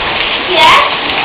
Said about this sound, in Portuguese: É chuva que força.